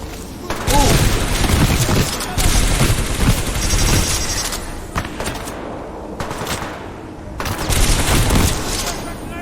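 Loud, sustained bursts of automatic gunfire and booming shots fill a Titanfall 2 firefight, with short breaks between volleys and voices mixed in with the shooting.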